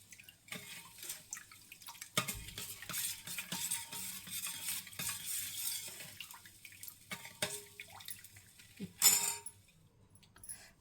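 Organic jaggery is stirred with a spoon in a pot to dissolve it, giving soft, irregular scraping and liquid swishing sounds, with a sharper clink near the end.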